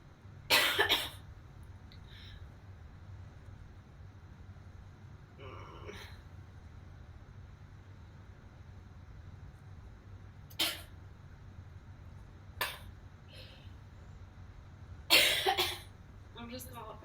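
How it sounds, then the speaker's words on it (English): A girl coughing, a few separate sharp coughs spread out over a quiet background, some of them louder and closer than others. "I'm just coughing."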